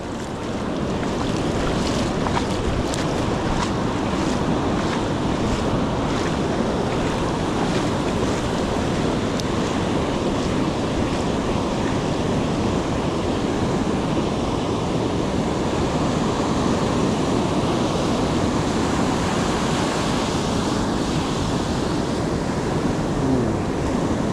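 Surf washing steadily onto a beach during a fishing trip, a continuous broadband rush with wind buffeting the microphone, loud and unbroken throughout with no talking.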